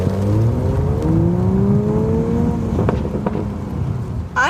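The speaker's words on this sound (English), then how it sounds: "You can put it in sport mode, which does rev the RPMs a little higher, and it gives you that great garbly sound coming out of the exhaust." A 2020 Toyota Supra in sport mode revs its engine, the exhaust rising in pitch with a gurgling, burbly tone, steady and fairly loud throughout with a small crackle near the end.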